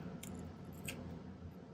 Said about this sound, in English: I'm just trimming it off flush to the bottom here